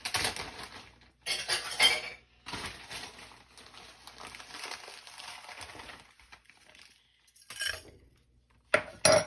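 A small saucepan clatters and clinks as utensils handle it while brown sugar is added, a few short metallic bursts separated by brief pauses, close and moderately loud with no talking.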